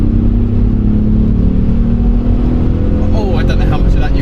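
An Alfa Romeo engine pulls hard in third gear, a steady loud drone of exhaust and engine note running throughout, rising slightly toward the end with some whining overtones, no talk over it.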